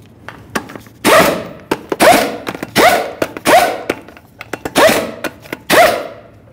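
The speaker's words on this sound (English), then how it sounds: "We'll start on all 6 of our 19mm lug nuts, bottom them out" A wrench spinning down the 19mm lug nuts on a 2002-2009 Chevrolet Trailblazer front wheel, heard as a series of about seven sharp, loud rattling bursts in quick irregular succession, close by with no talk.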